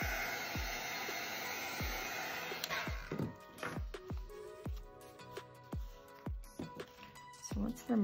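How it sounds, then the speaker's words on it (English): A heat gun blows a steady broadband roar across mixed media pieces, running loud for several seconds, then cutting in and out with repeated sharp taps and knocks over the final half. "Next up is to mostly dry them with a heat gun."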